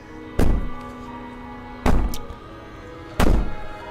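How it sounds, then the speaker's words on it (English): Someone bangs on a door with three heavy, widely spaced thuds, each a loud booming hit that rings briefly before fading. "Bang on the door all you want."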